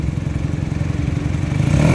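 An old Honda Hawk (Babu) motorcycle left sitting for 37 years runs with a rapid, lumpy engine pulse up close, then revs a little harder toward the end.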